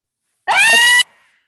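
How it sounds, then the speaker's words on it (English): A single short, loud, high-pitched scream from children in a park, lasting about half a second with a brief fading tail, with no other sound around it. "They scream at what they see."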